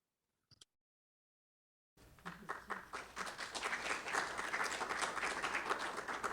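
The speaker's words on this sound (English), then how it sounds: "we're just giving you a round of applause" After a brief tap and nearly two seconds of silence, an audience at a museum curatorial talk breaks into applause that swells quickly and holds as full, steady clapping.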